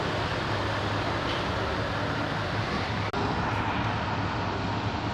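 Heavy street traffic on a congested road, a loud continuous engine roar and rumble with no distinct pauses, with no clear speech over it.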